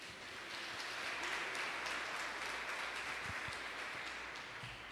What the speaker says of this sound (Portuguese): Vamos aplaudi-lo, queridos?